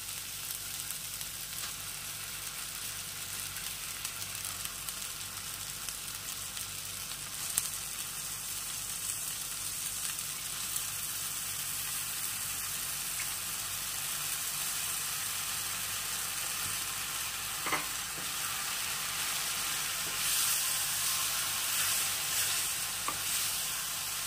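Soaked dal is added to spices frying in a pan for dal curry, giving a steady, moderately loud sizzle with occasional stirring knocks throughout.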